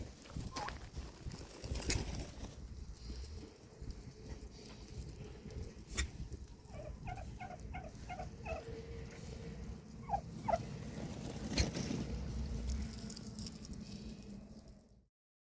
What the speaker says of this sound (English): so you can hear what it sounds like when a tom spits and drums